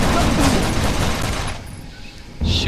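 Gunfire aimed at a mutant in the 2013 Flashback remake: a dense burst of shots over the first second and a half, then a lull and a fresh blast near the end. No one talks.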